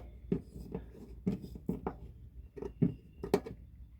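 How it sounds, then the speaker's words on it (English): Screws on a Dometic stove are turned with a Leatherman multitool during an install, giving a run of small, close, quiet clicks and ticks in uneven rhythm. "So you're just going to turn the screws a little bit. Do you hear that? It's a little clicky here."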